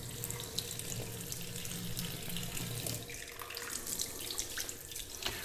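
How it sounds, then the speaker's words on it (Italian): Hot water runs steadily from a tap into a sink or bowl during a traditional wet shave, a continuous close splashing rush with small spatters. "Acqua calda, sempre."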